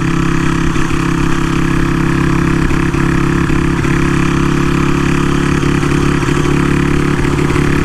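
A 1954 Motobecane Z46C moped engine runs while being ridden, a steady buzzing drone with a strong low hum and light rhythmic ticks, continuous and loud close up with wind underneath.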